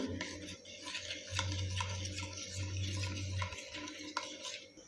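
Yogurt (curd) being whisked in a bowl for a Maharashtrian dahi tadka, a steady close scraping and stirring rasp that runs continuously with slight rhythmic pulses, with no talking over it.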